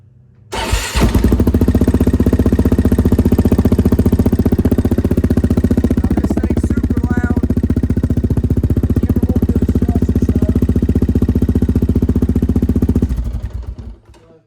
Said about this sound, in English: I'll give y'all a little startup of the exhaust.